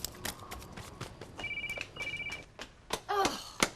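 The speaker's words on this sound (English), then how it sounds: "Telephone! I can hear it." A telephone rings indoors in a domestic setting, two short electronic trill bursts heard at moderate distance amid clatter and background noise, with a later chirping tone near the end.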